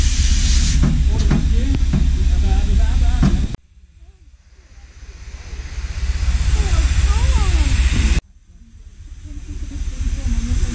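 A steam locomotive on a heritage railway releases a loud, steady hiss of steam, broken by two abrupt cuts, with muffled voices and background chatter in the first few seconds.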